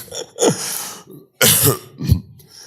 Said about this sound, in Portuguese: eu estou tossindo muito